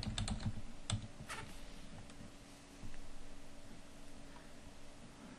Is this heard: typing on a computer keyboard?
yes